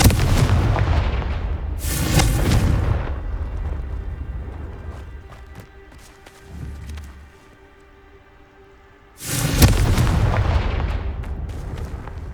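Confringo spell blasts in Hogwarts Legacy erupt as loud booming explosions, one at the start and another near the end, with quieter crackling debris and a faint thump between them.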